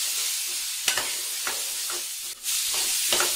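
Potatoes being stirred with coriander and red chili powder for batata poha in a sizzling pan, short scraping strokes of a spoon over a steady hiss, close and fairly loud.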